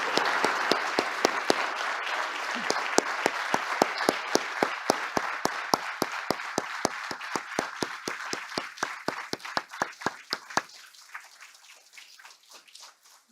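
An audience at an event honoring military and veterans' families applauds for First Lady Jill Biden, a sustained round of dense clapping that gradually thins out and fades at the end, with no voices over it.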